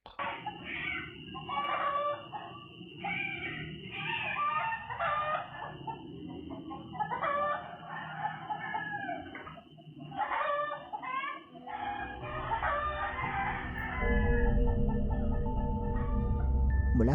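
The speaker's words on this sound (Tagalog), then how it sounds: "Kawawa naman yung manok." Several chickens cluck and squawk in agitated bursts at close range, followed by a rooster-like cry, with a low rumble rising toward the end.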